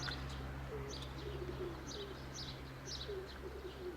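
A pigeon coos softly several times over a steady low hum and outdoor ambience, with faint chirps scattered throughout and no talking.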